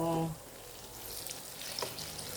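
Bananas frying in hot oil, a steady faint sizzle under road noise, with a short voice at the start.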